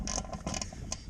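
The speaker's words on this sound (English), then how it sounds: "Put my ratchet on the 15mm bolt here." A ratchet turns a 15mm bumper bolt on a Ford Bronco, giving a quick run of close, crisp clicking strokes in uneven bursts with short pauses between them.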